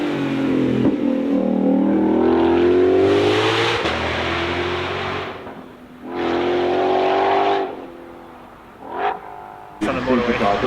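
A supercharged Ford Mustang GTD revs hard at the Goodwood Festival. Its engine note rises in two long climbing pulls, with a short blip and a final burst, under a voice talking.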